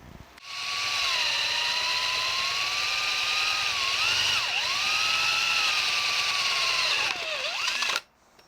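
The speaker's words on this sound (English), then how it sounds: "I got a 20 millimeter Forstner bit in the drill." A cordless drill fitted with a 20 mm Forstner bit bores a hole into a scratch-built electric guitar body, a close, steady high motor whine that dips twice under load before cutting off abruptly, with no speech.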